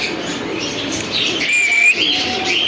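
White Lakka pigeons coo and chirp in a pigeon shop, soft close cooing mixed with brief higher chirps over a steady murmur of other birds, with no talk.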